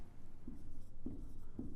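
A pen or chalk writes out a maths solution on a surface, giving faint scratchy strokes with three soft taps spaced roughly half a second apart, heard close and quiet.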